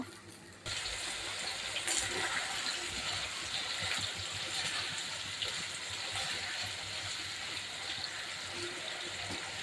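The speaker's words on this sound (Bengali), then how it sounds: "এখন ঝোলের পানি দেবো" Water pours steadily into a cooking pan for a fish curry gravy, a continuous faint gush that runs unbroken for several seconds.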